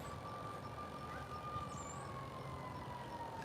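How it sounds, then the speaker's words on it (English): A single emergency vehicle siren wails about a mile away from a valley, faint and steady with a slow pitch drift over a low outdoor hiss, no voices. "the sirens are about, believe it or not, they're about a mile away"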